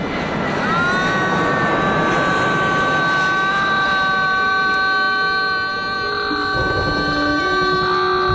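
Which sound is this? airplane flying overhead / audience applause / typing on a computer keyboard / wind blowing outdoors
airplane flying overhead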